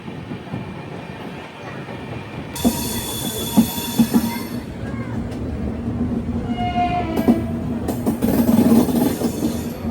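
A Padmavati SF Express train, no. 12763 from Tirupati to Secunderabad, rumbles along the tracks in a steady loud run. Its wheels clatter and squeal in bursts, heard from inside the last coach with no talk.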